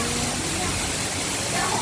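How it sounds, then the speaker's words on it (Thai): Roaring waterfall at a new tourist landmark in Chiang Rai, a dense, steady broadband rush of falling water heard up close and loud throughout, with someone talking over it. "น้ำตก"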